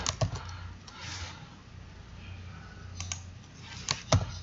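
Keys tap on a computer keyboard in short bursts of quick, close strokes with small pauses between them, over faint room hiss and with no talking.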